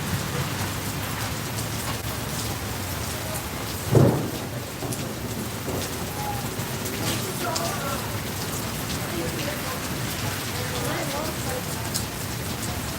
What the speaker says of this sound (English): trying to wait this rain out before I get moving